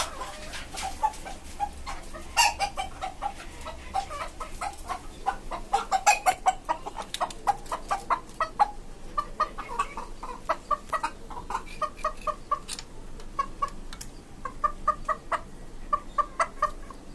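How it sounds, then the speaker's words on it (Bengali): Several chickens on a poultry farm cluck close by in short, repeated bursts that carry on throughout. "এই হচ্ছে আমার টাইগার মুরগিগুলা"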